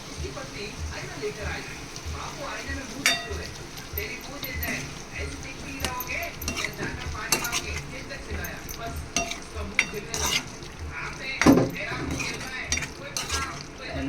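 Onion and coconut paste being stirred into a sizzling prawn masala, with soft frying hiss, spoon scrapes and occasional clinks against the pan, while someone talks over it.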